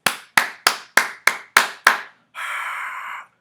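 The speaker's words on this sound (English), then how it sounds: "round of applause to the Passive Pulse DApp" Seven sharp, evenly spaced claps ring out in a quick rhythm, followed by a short burst of steady hissing noise.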